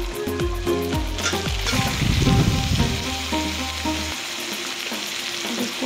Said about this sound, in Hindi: यहाँ आप देख रहे हैं कि प्याज जो है ऑलमोस्ट फ्राई होने लगे, और उसमें चिकन और आलू एक साथ डाल देंगे।